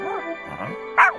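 A snow dog in a children's animated story gives three quick, high yaps in about a second, the last one the loudest.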